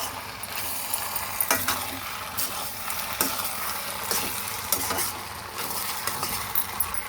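A pasta snack mixture is stirred in a frying pan, a constant sizzle with repeated scraping strokes of a spoon against the pan at a steady pace, close by, with no voices.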